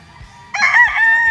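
A gamefowl rooster at a game farm crows once, close and loud, a bright strained call cutting in after a quiet start, with faint low thumps beneath.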